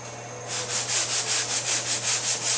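Fresh paint on a 2005 Honda S2000 body panel is sanded by hand with firm pressure, a rhythmic rasping stroke repeating about every quarter second, close and alone.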